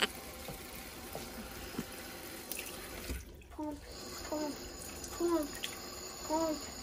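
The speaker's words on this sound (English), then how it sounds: "Always wash your hands, guys." Tap water runs into a sink while a child washes hands with soap, a faint steady splashing with people talking softly over it.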